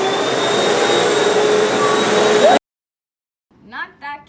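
A vacuum cleaner runs loud and steady at close range for a few seconds, then cuts off abruptly, and a voice starts speaking after a short silence.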